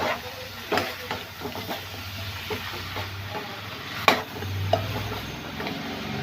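Mutton neck pieces fry in a pan with a steady sizzle and hiss under a low hum. Stirring knocks and scrapes recur throughout, with a sharp clank near the middle and another utensil knock shortly after.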